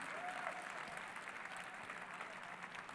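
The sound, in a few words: audience applause for the teams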